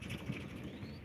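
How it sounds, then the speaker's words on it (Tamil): A bird flaps its wings in flight outdoors, a few soft, quick fluttering beats at moderate distance against a faint background hum. "அந்த பறவை பறந்துட்டு இருந்தது"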